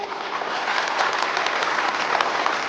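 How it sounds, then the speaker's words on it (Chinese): Warm applause from a banquet audience at a charity auction evening, dense steady clapping from many hands filling the room for a few seconds. "让我们用热烈的掌声预祝今晚的拍卖圆满成功"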